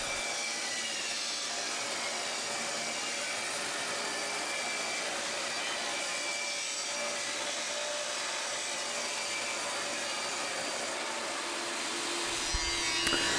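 A saw blade cuts through maple wood in a long, steady whining roar that holds for several seconds, ending with a short thump.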